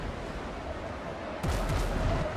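Cannons firing in the pirate sailing game Windrose, a loud burst of booming shots arriving partway through after a steady rumbling background, then continued crackling reports.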